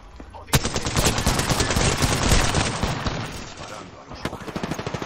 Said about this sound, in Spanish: Disparando a los humanos.